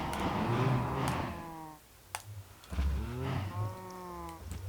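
Cattle mooing with a synthetic, game-like tone in a video game, several drawn-out moos from more than one animal, separated by a short pause with a few clicks.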